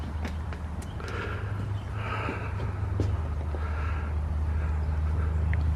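A horse walks around outdoors at a rural life museum, its hooves clopping softly and irregularly at a moderate distance over a steady low background rumble, with an occasional snort.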